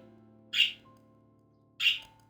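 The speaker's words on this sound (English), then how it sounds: "An overly excited bird is making this very loud." Two loud, shrill squawks from an excited bird in the video game Wizard of Legend, spaced about a second apart over a low steady game hum, with no talking.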